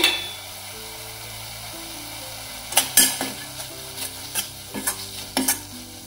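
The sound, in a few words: paneer gravy boiling in pan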